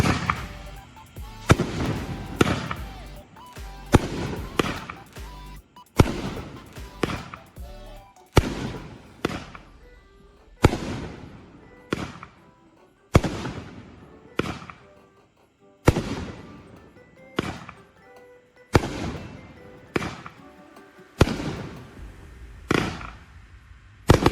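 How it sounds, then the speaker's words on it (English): A Pyro Yes 'Road to Freedom' firework cake firing a long run of sharp, loud bursts at a steady rhythm, each crack followed by a brief crackling tail, one after another for the whole stretch with no talking. "let's just go ahead and see Road to Freedom from Pyro 𝗬𝗬𝘀"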